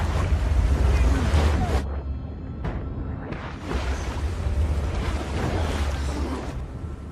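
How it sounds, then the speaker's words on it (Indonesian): A river current rushes and churns in a film scene, a steady loud wash of turbulent water with a brief dip in the middle before the roar returns, and no voices. "yang membuat Glass terpaksa membiarkan dirinya terseret oleh arus sungai."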